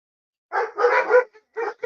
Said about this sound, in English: Oh, dogs.